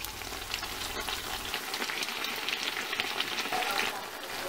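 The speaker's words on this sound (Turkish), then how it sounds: "bu pişlerini ilk önce bir tarafını kızartıyoruz" Yeast dough flatbreads (pişi) sizzle and crackle steadily in hot oil, a dense, even frying hiss with no voices.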